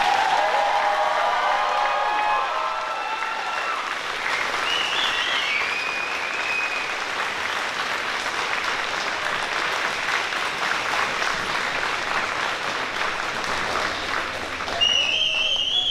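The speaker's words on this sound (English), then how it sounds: "Those who are graduates, can we have a round of applause?" Graduates at a 2024 FSJSS graduation ceremony receive a long, sustained round of applause from the crowd, a dense wash of clapping that stays even for the full stretch.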